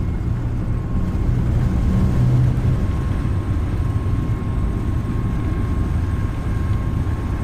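The engines of an A32NX airliner in Microsoft Flight Simulator roar at takeoff power during the takeoff roll, a loud steady low rumble with a faint whine, continuous throughout and with no voices.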